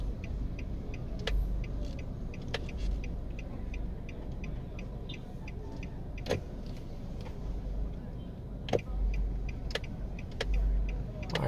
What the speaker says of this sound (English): Alright, so there's some traffic here.